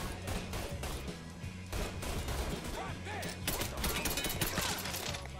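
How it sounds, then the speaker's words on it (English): Gunfire in Mafia 3: a run of quick, closely spaced shots that continues through the whole stretch, with clusters of sharper reports near the end over a low game drone and some faint voice. "Wow, the firing rate is kinda terrible."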